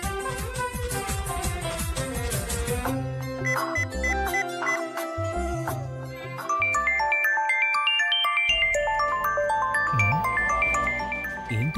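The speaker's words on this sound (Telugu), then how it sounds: "ఏంటి సీత ఫోన్ చేస్తుంది?" A mobile phone ringtone plays for an incoming call, a bright melodic tune with layered chiming notes that repeats at steady loudness and changes pattern partway through, with no talking over it.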